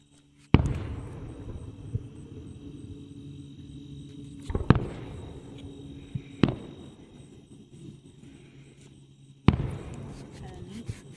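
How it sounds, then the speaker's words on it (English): Distant fireworks go off at an outdoor display on a showery evening, several sharp cracks and booms spaced seconds apart with crackling trails between them and a steady insect-like background hum. "It's a good thing they didn't cancel the fireworks then."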